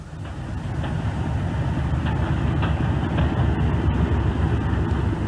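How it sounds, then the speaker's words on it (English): A Class 31 diesel locomotive pulls away from a standstill in first power notch, its engine giving a steady, close, low rumble that builds slightly as it moves off, with no voices. "the locomotive draws away to an easy start"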